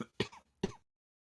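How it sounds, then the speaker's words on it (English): Two quick, close coughs into a microphone, sharp and separated by a short pause, followed by silence. "That sounds like a cough."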